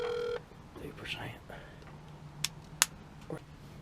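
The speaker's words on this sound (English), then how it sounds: "A phone call to our buddy Alex" A phone call is placed from inside a 1997 Ford F350, with a short burst of dialing tones, then faint ringback and small clicks under quiet, muffled voices.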